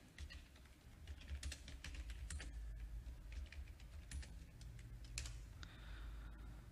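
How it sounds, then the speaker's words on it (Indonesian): Quiet typing on a computer keyboard while entering spreadsheet data, with irregular bursts of soft key clicks close by and no talk. "Ya, kita ketik saja."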